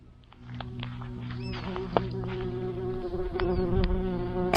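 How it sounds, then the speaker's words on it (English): A wasp buzzes close to the camera by the shore at low tide, its whine rising and falling over a steady low engine-like drone, with small clicks and knocks around it. "Wasp going for the camera."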